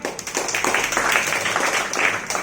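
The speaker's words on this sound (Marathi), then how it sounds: "व्हेरी गुड टाळ्या" Children in a classroom break into a burst of fast, uneven clapping that stays close and fairly loud for a couple of seconds with no voices over it.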